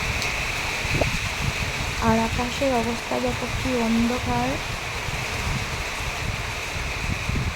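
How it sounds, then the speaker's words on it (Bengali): Storm wind gusts through trees with light rain, a broad continuous roaring rush that stays loud throughout, while a person talks over it for a few seconds in the middle. "তারপর আস্তে আস্তে তুফান আসলো অনেক দূরে তুফানের সাথে হালকা হালকা বৃষ্টিও পড়ছে"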